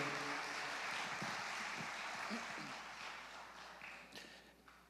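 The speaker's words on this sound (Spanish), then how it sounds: "Dale un aplauso a Jesús de adoración" Applause from a worship-festival crowd at a Christian music event, a broad steady wash of clapping that gradually thins and fades toward the end.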